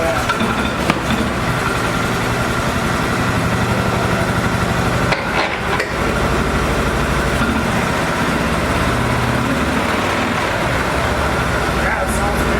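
An Argo ATV fitted with a new welded muffler idles nearby, its engine a steady low, even drone with a few brief bumps, while people talk over it.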